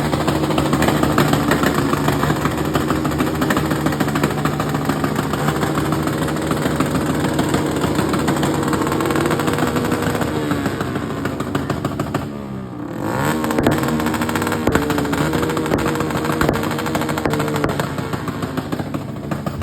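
At a New Year celebration, motorcycle engines rumble and rev continuously, with sharp popping backfire bursts scattered through the noisy, loud scene.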